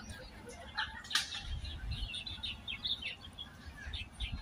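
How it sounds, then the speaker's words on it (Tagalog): Many small birds chirp and twitter in quick, overlapping bursts in Lai Chi Kok Park, with a soft rustle of wings and low outdoor rumble beneath. "O, pakinggan nyo ang chirping-chirping ng mga ibon."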